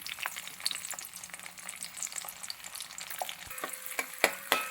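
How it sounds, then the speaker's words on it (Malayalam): Garlic, 150 grams, fries in hot sesame oil for a Kerala-style fish pickle, giving a lively close sizzle with crackles and occasional stirring knocks from a utensil. "അതിലോട്ട് 150 ഗ്രാം വെളുത്തുള്ളി ഇടുന്നു"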